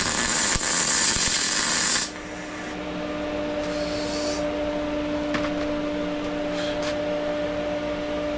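Arc welding on a DIY steel welding fixture table, a loud broadband crackling hiss for about two seconds that cuts off, then a steady machine hum with a few faint clicks.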